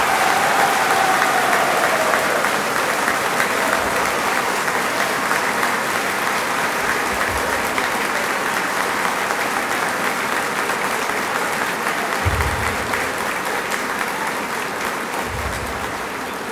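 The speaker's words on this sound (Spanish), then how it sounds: "Yo quiero que lo digan con su aplauso," An audience of engineers who build schools responds with a long, steady round of applause, an even crowd clapping texture that fades gently toward the end, with a brief voice at the start.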